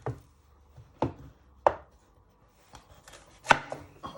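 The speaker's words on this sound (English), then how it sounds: "Next step is to chop your pepper in half." Knife chopping through a bell pepper on a cutting board for spring rolls: a handful of sharp, separate chops, close and crisp, spaced about half a second to a second apart with quiet gaps between.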